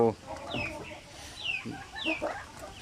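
Native chicken chicks kept apart from the flock peep and cheep repeatedly in high, close-up calls over a constant farmyard background.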